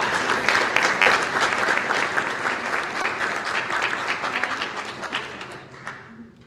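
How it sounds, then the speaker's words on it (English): Audience applause fills a Norwalk City Council meeting room, a dense, steady wash of clapping from many hands that holds for several seconds before thinning out at the end. "Let's give them a round of applause."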